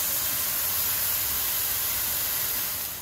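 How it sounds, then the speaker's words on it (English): Lamb gyro patties fry in a hot pan with a loud, steady broadband sizzle that holds through the whole stretch, close up and with no talking. "Okay, we're gonna start frying them up."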